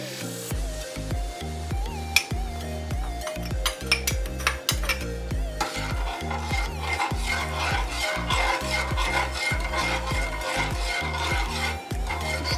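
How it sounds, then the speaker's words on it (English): A spoon stirs sugar into a sweet and sour sauce in a pot, making steady rhythmic scraping and clinking strokes against the metal, close and fairly loud, with faint sizzling building toward the end. "Stir it in."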